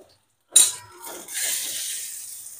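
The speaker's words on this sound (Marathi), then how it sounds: "झाकण काढून घेतलं" Lid lifted off a pot of stuffed okra (bharli bhendi) cooking on the stove: a sharp metallic clink, then a softer rattle and a lingering hiss from the pan, fairly close and with no talking.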